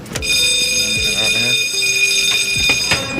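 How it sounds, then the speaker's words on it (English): A bell rung on cue during a film shoot, a sustained bright metallic ringing tone held throughout while people talk over it nearby. "I have to wait for her to say on the bell, and then I ring it."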